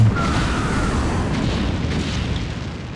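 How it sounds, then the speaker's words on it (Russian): A deep, rumbling boom of a nuclear explosion in StarCraft: Brood War fades slowly into a sustained low roar, like a massive blast echoing out. "К сожалению, ядерным взрывом нас убило."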